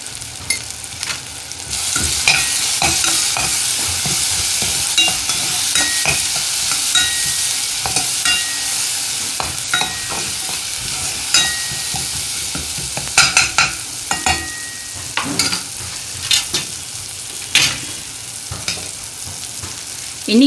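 Tomatoes fry in a pan with turmeric, chili powder and salt. A steady sizzle runs throughout, broken by frequent scraping and clinking stirs of a spoon against the pan. Close and continuous, with no talking.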